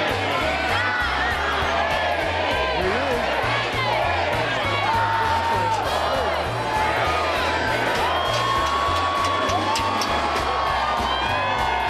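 A crowd cheers and whoops loudly at a New Year event, shouts and high yells layered over a pulsing, rhythmic low beat of music running throughout.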